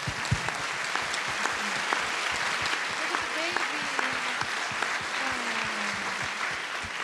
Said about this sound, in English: So I want you guys to give yourself a round of applause